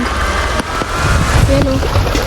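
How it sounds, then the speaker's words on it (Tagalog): A flooded river rushes with a loud, continuous broadband roar, wind buffeting the microphone and a brief voice heard faintly over the churning water. "Grabe oh, ito na po yung ilog."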